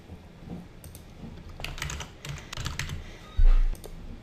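Typing on a computer keyboard while entering a picture caption in Word 2010, a quiet run of light key clicks in small bursts, with a louder thump near the end and no talk.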